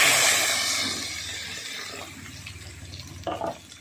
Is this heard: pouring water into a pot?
yes